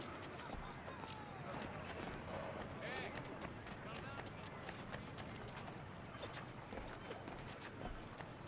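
Horse hooves clip-clopping in an Assassin's Creed video game, a steady patter under dense ambient city noise and background voices.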